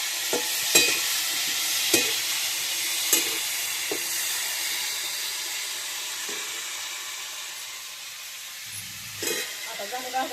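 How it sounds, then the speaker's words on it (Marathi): Vegetables for an eggplant dish being stirred and roasted in a pan, with a steady hiss and several sharp scraping knocks of the spoon spaced out, and a louder clatter near the end. "चांगले हलवायचे, भाजून घ्यायचे."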